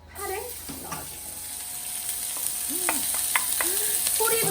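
Sliced green onions dropped into hot oil in a pan, giving a steady, loud sizzle and crackle that builds and holds, with someone speaking over it in brief bursts.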